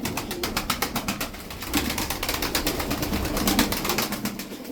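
Tokat game pigeons coo in soft, repeated throaty pulses, close and fairly loud, overlapping one another without pause in a loft setting.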